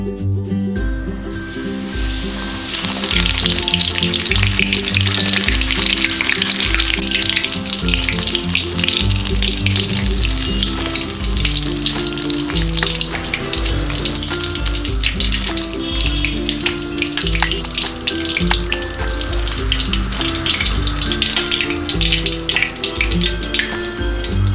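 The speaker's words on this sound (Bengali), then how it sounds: "অল্প আছে বারে বারে এপিট ওপিট উল্টে ভাজবো।" Battered fish pieces fry steadily in hot oil for a Kolkata-style fish batter fry, a continuous loud sizzle with bubbling crackle that holds from start to finish, no voices.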